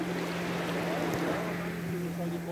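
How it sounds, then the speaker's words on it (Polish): A distant motorboat drones steadily across open water, a low engine hum under wind and lapping waves, with some faint voices nearby. "Tam motorówka jakaś pływa."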